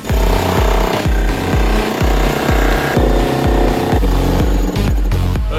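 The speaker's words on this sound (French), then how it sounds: "Enfin, un marteau-piqueur. Maintenant, on va défoncer le mur." A jackhammer pounds a wall in rapid, steady bursts, very loud and close, its hammering rhythm continuous and harsh with no talk over it.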